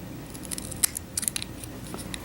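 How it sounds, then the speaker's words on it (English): Small scissors snip through silica wick at the edge of an EVOD vape coil during a rebuild, giving several quiet, crisp close-up cuts in quick succession with no talking. "just enough to get your scissors in there to cut that"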